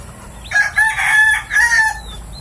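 Black Knight gamefowl rooster crowing close by, two loud cock-a-doodle-doo calls in quick succession over faint background noise.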